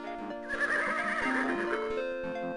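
A horse neighs and whinnies loudly in the King's Quest 6 adventure game, a sustained call of about two seconds heard alone over a steady game soundtrack.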